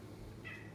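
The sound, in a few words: cat meowing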